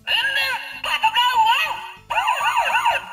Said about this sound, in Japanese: ブンブンパトカー1でサイレンの音。